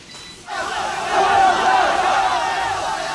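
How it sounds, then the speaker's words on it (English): Huge crowds of demonstrators fill the streets of Beijing during the 1989 Tiananmen Square protests, making a dense, continuous roar of many voices that swells after a short quieter opening and stays loud and steady throughout. "the enormous crowds were out in the streets again, blocking their way"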